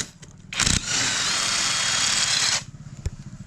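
An iBELL 500Nm impact wrench loosening nuts and bolts gives a loud, sustained rattling hammer for about two seconds, preceded by a short burst and followed by a brief knock.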